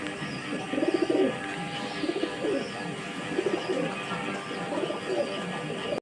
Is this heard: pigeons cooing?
yes